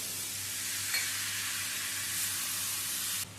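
Water poured into a sizzling banana flower and potato masala, producing a loud, even hiss of steam close by that cuts off abruptly near the end.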